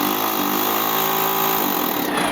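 A rotary hammer in hammer action, driving a broken-off chisel end against timber during basement underpinning, gives a loud, continuous buzzing rattle. It runs steadily and close for the whole two seconds.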